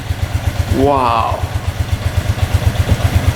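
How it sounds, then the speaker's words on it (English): A cheap used $300 ATV engine idles nearby with a steady, even low-pitched pulsing chug throughout, while a person briefly exclaims over it. "There we go, she's idling pretty good now."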